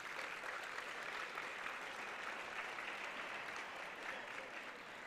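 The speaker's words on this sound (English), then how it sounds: "A round of applause for all our MD psychiatry graduates" Steady applause fills a convocation hall for MD psychiatry graduates, a dense wash of many hands clapping at an even level throughout, with no voices standing out.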